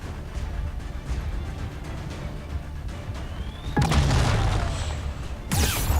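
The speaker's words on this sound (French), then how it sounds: "C'est qui m'a tiré un missile?" Missile explosions in the video game Mass Effect 3, a low rumbling game backdrop broken by two sudden loud blasts, the second shortly after the first, with crackling debris.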